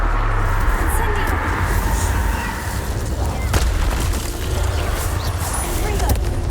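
Incendio fire spell cast in Hogwarts Legacy, a dense roaring whoosh of flame with booming low rumble, loud and sustained with brief sharp cracks and a dip partway through, spoken incantations heard over it.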